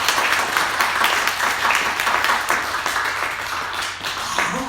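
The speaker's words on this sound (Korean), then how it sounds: "박수 한번 칩시다." A church congregation claps together during a Sunday service, sustained dense applause filling the room for the whole stretch, steady and fairly loud with no pauses.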